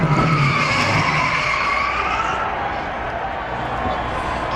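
A NASCAR stock car spinning out on the track at Dover, a long loud tire skid and squeal mixed with roaring engines and crowd noise, with an excited commentator's voice running underneath.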